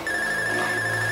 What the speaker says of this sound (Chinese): 我接电话一下。